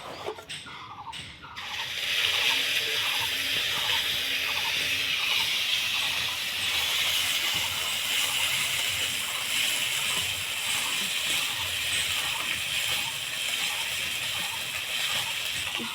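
Cumin seeds and turmeric powder sizzling in hot oil, a steady, bright frying hiss that swells in after a brief clatter and holds loud and continuous close by, with faint rhythmic ticking underneath.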